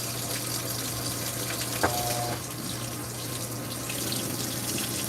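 Water runs steadily into a Whirlpool WTW5057LW0 HE top-load washer as it fills for the rinse. The rushing flow is constant and fairly loud throughout, with a single faint click partway through and no talk.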